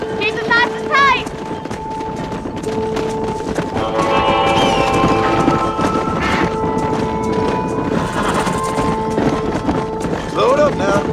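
Horse hooves clip-clop steadily in Red Dead Redemption while riders herd cattle to a pasture, a continuous galloping rhythm with occasional whinnies, wind rush and a rider's voice calling over it.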